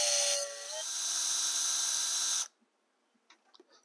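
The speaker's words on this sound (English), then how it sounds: "I'm going to drill a hole down through my chimney" Power drill boring a hole down through an MDF model chimney, a steady high whine lasting about two and a half seconds and then cutting off, followed by a few faint clicks.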